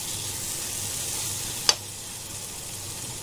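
Masala and chillies fry in a pan with a steady, close hissing sizzle. A single sharp click or tap cuts through midway.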